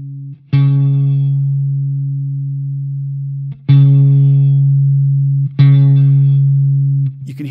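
Electric guitar through a Line 6 Helix, three sustained low notes each struck and left ringing for several seconds, thick, muddy and boomy with a buzzing attack, loud and close.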